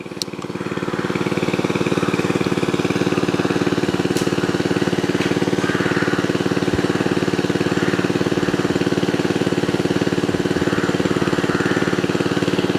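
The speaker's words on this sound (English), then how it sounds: "you won't be able to hear very well because I'm right next to the aerator" Fishery pond aerator running close by, a loud, steady mechanical motor drone with a rapid pulsing throb that continues unbroken throughout.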